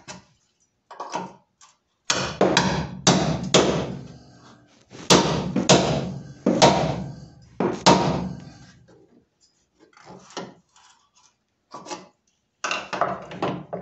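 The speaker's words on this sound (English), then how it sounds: "Give it a good whack with the chisel, and grab the pry bar." A hammer drives a chisel to remove a transmission bracket during a K-series/J-series engine swap: loud, close, sharp metallic whacks in clustered bursts of several blows, with short pauses between groups and no talking.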